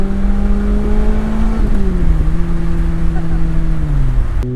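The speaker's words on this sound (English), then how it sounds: "a sport bike company makes an engine that sounds like a sport bike" The Yamaha-tuned engine of a Lotus Elise holds a steady, loud drone, then its pitch steps down through gear changes, heard up close over road noise.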